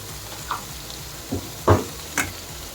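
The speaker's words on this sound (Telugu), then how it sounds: "ఇప్పుడు మ్యారినేట్ చేసుకున్న సోయా అలాగే వెజ్జీస్ అన్నీ వేసుకొని ఫ్రై చేసుకుందాం" Marinated soya chunks and vegetables sizzle in a pan with softened onions for a soya veg biryani, with a few short, distinct bursts of frying and stirring over a quiet background hiss.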